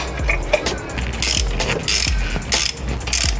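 Ratchet clicking on a bolt for a Process West Verticooler intercooler bracket on a 2008–2014 Subaru WRX, with quick bursts of close, sharp pawl clicks separated by short pauses.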